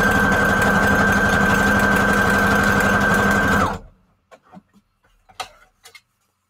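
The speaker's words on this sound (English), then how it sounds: "I'm just going to use a zigzag stitch." A sewing machine runs steadily at close range, stitching a zigzag seam to join paper strips for a journal, then stops abruptly; a few faint handling clicks and taps follow in near silence.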